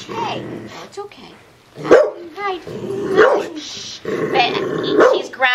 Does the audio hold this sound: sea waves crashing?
no